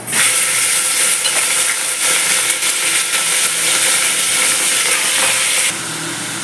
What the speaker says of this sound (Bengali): এবার আমি মাংসগুলোকে কুকারে ছেড়ে দেবো